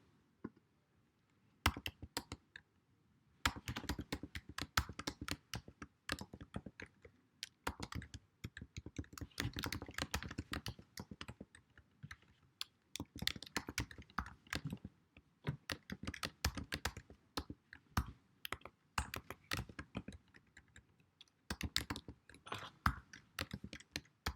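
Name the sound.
typing code on a computer keyboard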